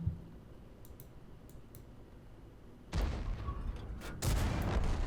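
Tank gun loading mechanism in World of Tanks with a modded model: faint metallic clicks early on, then two loud, dense mechanical clanks and rumbles in quick succession, close and harsh, with no talking.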